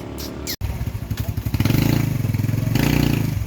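A Yamaha Vega motorcycle engine idles and then revs after a stator replacement, a loud, close, steady rapid putter that rises in intensity after a brief cutout at the start.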